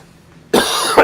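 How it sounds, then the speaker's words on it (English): A man with bronchitis gives one harsh, wet chest cough that breaks the quiet, followed by a second short burst. "As I think about it, I cough."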